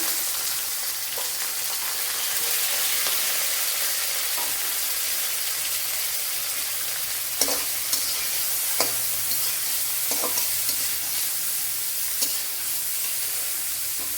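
Finely chopped onion and dried red chillies sizzle in a pan for a Kerala-style spinach thoran, a loud steady frying hiss broken by scraping stirring strokes.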